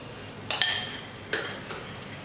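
Metal spatula stirring egg into onion-tomato masala in a pan for egg kothu bread, giving two sharp clinks and scrapes against the pan, close and fairly loud, with no talking.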